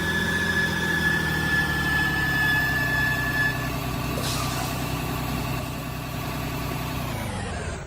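A bus engine idles at a depot in a video game, a steady low rumbling drone that runs close and even throughout with no talking over it.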